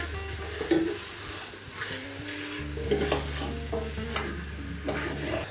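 Pork pieces sautéing in a frying pan with butter over high heat, a constant sizzle under repeated scraping and clinking stirs, with a low humming drone behind, close up and without speech.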